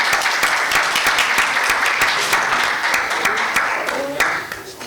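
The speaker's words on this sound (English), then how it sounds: "would you all give him a big round of applause as he comes forward?" An audience at a town council meeting breaks into loud, sustained applause, many hands clapping together close by, tapering slightly toward the end with faint talk underneath.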